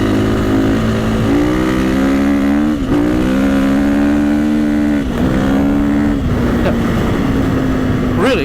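A motocross motorcycle with 13-52 gearing, its engine loud and close as it runs, the pitch climbing and dropping repeatedly while it revs and shifts, with a voice audible over the motor.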